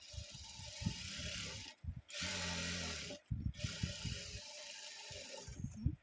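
A sewing machine stitching canvas into pants, bursts of rapid close mechanical clattering broken by short pauses, with one steadier humming stretch in the middle.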